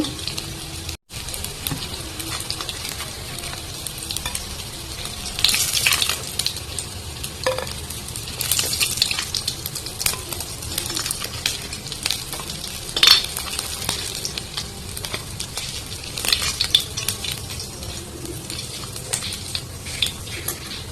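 Snack fritters fry in hot oil with a constant bubbling sizzle, while a utensil scrapes and stirs, clinks against the pan and lifts pieces out in scattered bursts.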